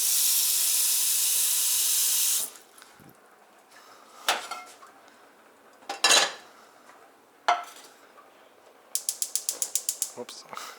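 Pots and pans being handled in a home kitchen to start boiling water, a run of steady hiss from a tap, then several separate metallic clanks and scrapes, ending in a quick rapid rattle.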